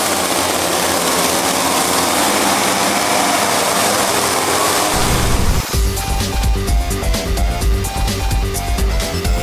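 A chainsaw engine runs loud and steady for chainsaw juggling, with a dense roar that shifts in tone partway through as the throttle changes.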